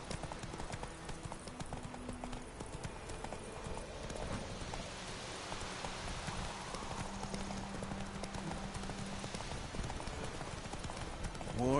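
Roach, the horse in The Witcher game, gallops in a steady, continuous clip-clop of hooves that runs the whole stretch, mixed under a dense bed of game music and ambience.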